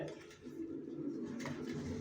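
Racing pigeons coo softly in a loft, a faint, low, continuous burbling from several birds with a slight rise near the end and no voices.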